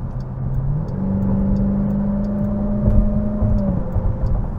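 Interior cabin drone of a 2024 Dodge Durango SRT Hellcat supercharged SUV while cruising, a steady low engine and exhaust hum with a sustained tonal drone that holds even, then shifts slightly near the end, with no talking.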